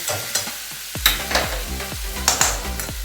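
Beetroot and carrot fry in a pan for vegetable chops, with a loud, close sizzle and repeated rhythmic scraping strokes of a spatula against the metal.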